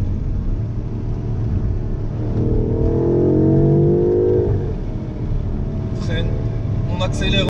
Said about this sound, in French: Accélère en virage, excellent grip, on est sur les 4 roues motrices